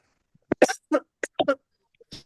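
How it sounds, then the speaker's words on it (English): A person's bad cough: a quick string of short, dry coughs and throat bursts, close and fairly loud in a quiet room. "sorry, I have a bad cough"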